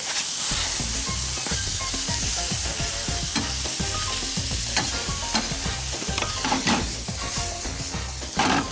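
Kimchi stir-fried with meat in a pan: a continuous loud sizzle with steady scraping and stirring strokes of a utensil against the pan throughout, no voices.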